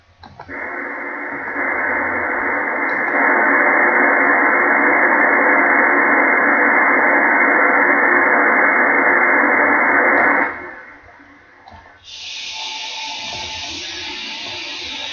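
Strange modem-like shortwave radio signal on 9390 kHz upper sideband: a loud, steady buzzing data tone holds for about ten seconds, then drops out and gives way to a higher, thinner whine with static.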